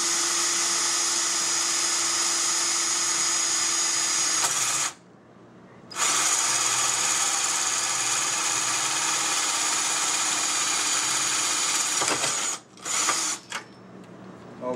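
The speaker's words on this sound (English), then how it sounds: "so now we place the drill right through the hole there" A power drill bores a hole in a workpiece while building a tier, running in a loud, steady whine that stops briefly mid-run and cuts out a few more times near the end, with no talking.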